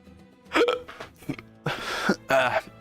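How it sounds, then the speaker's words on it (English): Several sharp hiccups come in quick, irregular succession, fairly close and alone without other talk. "Hiccups."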